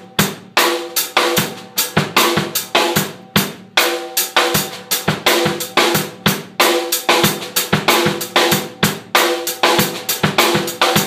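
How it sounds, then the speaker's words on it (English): Drum kit groove with loud accented hits each followed by two quick soft ghost notes, played steadily and up close for about eleven seconds, with no talking. "just before doing a loud note followed by your 2 ghost notes quite swiftly afterwards"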